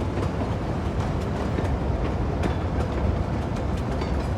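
A train runs over newly built track in the city-builder game Cities: Skylines II. The rumble is dense and continuous, with faint rhythmic clicks of the wheels, close and loud, and no voices.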